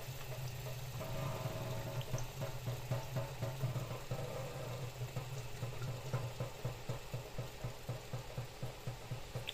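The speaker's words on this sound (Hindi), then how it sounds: "अब ऑटो फ्लश कम करना स्टार्ट हो गया है, तो यहाँ पानी जो है निकलेगा" Water draining steadily from the auto-flush outlet of an Aquadart RO filter kit, a continuous trickling flow with a faint pulsing rhythm, heard alone without talk.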